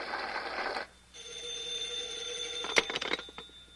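A telephone rings indoors with a sharp electronic trill after a brief pause, ringing bursts fairly close and clear over a steady background hiss.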